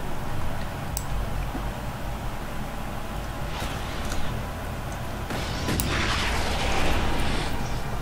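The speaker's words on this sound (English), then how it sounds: "they kind of blew up that bridge, didn't they?" A bridge blows up in the sci-fi strategy game Starship Troopers Terrain Command, a continuous roaring rumble of explosions and artillery-like booms that swells louder toward the end.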